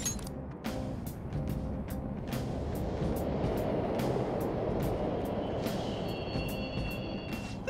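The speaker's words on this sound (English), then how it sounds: "The trains are totally running!" Subway trains running in Persona 5 Royal, a steady rolling rumble of rail cars with repeated sharp clacks and metallic squeals, continuous and fairly loud with no talk.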